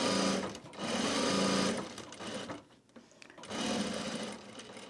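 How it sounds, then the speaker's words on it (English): A sewing machine stitches a quarter-inch seam allowance along the edge of a wax canvas bag, in three fast whirring runs separated by short pauses, close and clear. "I'm just going to stitch this in the seam allowance, which is only 1/4 inch"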